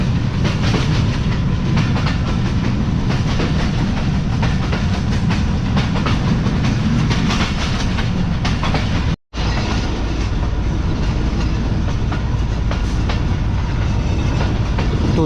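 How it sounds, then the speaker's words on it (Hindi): From aboard the Mohen Jo Daro passenger train running at speed in Sindh, a loud, continuous rumble and rhythmic clickety-clack of wheels on rails fills the scene, with a momentary dropout partway through. "उससे पहले ट्रेन की कुछ इस तरह की स्पीड है"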